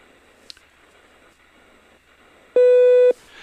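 A voicemail beep on a phone call sounds once as a single loud, steady electronic tone of about half a second, after a quiet line hiss and a faint click.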